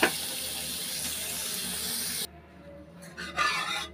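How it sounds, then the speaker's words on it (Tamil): Grated carrot sautéing in a spoonful of ghee in a kadai, a steady loud sizzling hiss that cuts off abruptly, followed by quieter intermittent stirring and scraping sounds. "அந்த நெய்யிலே வந்து இந்த கேரட்டை வந்து லைட்டாக வதக்கிக்கிறலாம்."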